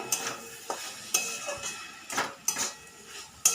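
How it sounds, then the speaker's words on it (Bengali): Red amaranth greens (lal shak) being stirred in a pan: sharp metallic scrapes and clinks of a utensil against the pan at irregular intervals over a faint sizzle. "এবার আমি এটাকে ভালো করে মিশিয়ে দেবো।"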